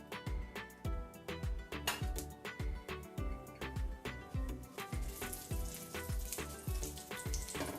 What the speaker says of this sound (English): I'm gonna put some oil in there. About 2 to 3 spoons. And add some cumin seeds in there.